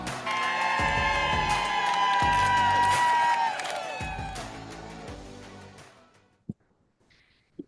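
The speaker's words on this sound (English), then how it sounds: "Wow. Applause." An audience cheers and whoops loudly at a community advocacy meeting, the noise holding for several seconds before fading into a few scattered claps and near quiet.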